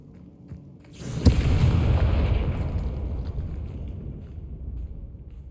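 A Confringo spell explosion in the video game Hogwarts Legacy: a single sharp, loud blast that rolls into a long rumbling tail, slowly fading over several seconds.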